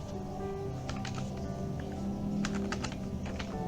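Someone types a router configuration command on a computer keyboard, a run of quick, close key clicks in irregular bursts over a low, steady hum.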